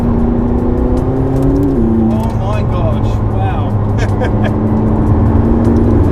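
A McLaren 675LT sports car engine roars steadily, close and loud, with its pitch shifting as it accelerates while a person exclaims over it.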